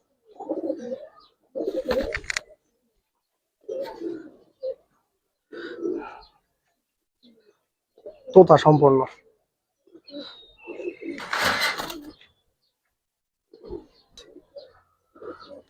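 Giribaz pigeons coo in short, separate bursts close by, with pauses between them and someone speaking among the calls.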